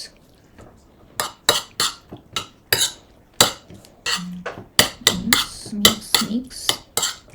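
Ingredients mixed in a bowl with a utensil, a run of sharp scraping and clinking strokes in an uneven rhythm, close and fairly loud, with brief low murmurs between.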